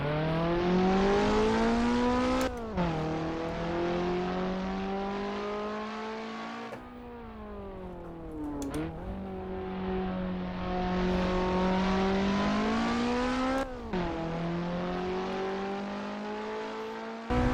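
A Toyota Sera TRD engine in the Assetto Corsa racing game on a Pikes Peak hill-climb lap, a loud droning engine note that rises through the revs, drops sharply at each gear shift and climbs again, steady and close throughout.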